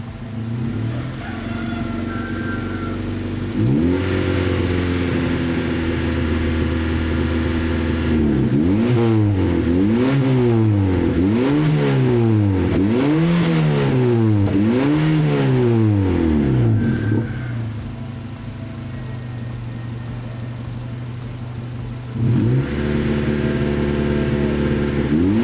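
A Daihatsu Taruna car engine runs after a top overhaul for burning oil, idling steadily, then revving repeatedly in rising and falling surges before settling back to idle and blipping once more, loud and close with no talk.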